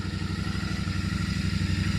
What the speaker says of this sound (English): If I put the bike in neutral and start the bike